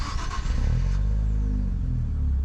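A Nissan Z with a manual gearbox starts up with a crank and catch, then settles into a steady, low, close engine rumble without much revving.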